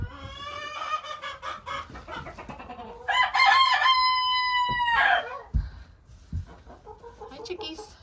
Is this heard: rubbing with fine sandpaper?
no